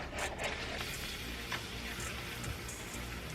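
A roux frying in a pan gives a dense, even sizzling hiss with a few small crackles, close and steady, with no voices.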